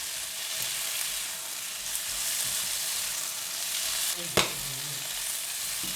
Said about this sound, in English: Give it a stir for 30 seconds or until all the ingredients and seasonings are well combined.